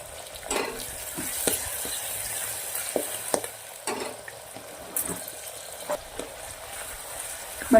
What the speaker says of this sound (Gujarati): બટાકા વટાણા સરસ તેલના અંદર ઘીના અંદર સંતરાઈ જવા દેવાના છે